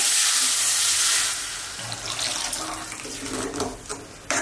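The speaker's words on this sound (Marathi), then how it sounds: "हे बघा आपण आता ह्याच्यामध्ये पाणी ओतून घेऊ." Water pours into a pot of cooking vegetable soup, a close, steady splashing stream that thins and turns gurgly partway through before trailing off.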